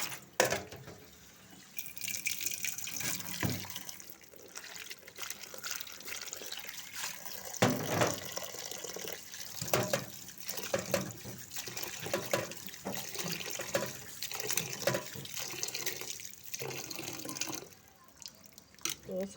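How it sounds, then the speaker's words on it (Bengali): Cut vegetables are rinsed by hand under a running kitchen tap, water splashing and trickling unevenly with clinks and handling noises close by. "তো আমি আরও একবার ধুয়ে নেব।"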